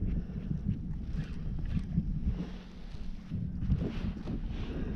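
Wind gusting outdoors on open water while fishing for redfish under overcast skies, a rough buffeting rumble against the microphone, steady and fairly close.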